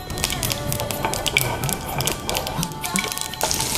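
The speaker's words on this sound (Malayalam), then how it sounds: "നെയ്യ് ചൂടായിട്ടുണ്ട് അപ്പോൾ നമ്മൾ അതിൻ്റെ കുറച്ച് മസ്റ്റാർഡ് കടുക്" Mustard seeds splutter in hot ghee while tempering, a dense, close crackle of rapid pops and sizzling spatters that runs continuously throughout.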